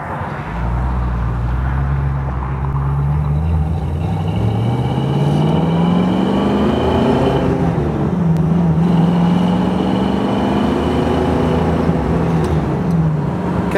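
The 289 A-code V8 of a 1965 Ford Mustang convertible hums steadily at highway speed with road noise, its pitch rising and falling slightly as the car moves along continuously.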